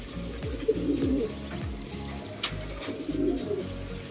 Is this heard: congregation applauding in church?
no